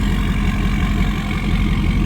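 A Ford Powerstroke diesel truck engine with a Banks exhaust and full delete kit idles steadily, a loud, close, deep rumbling drone with no talk over it.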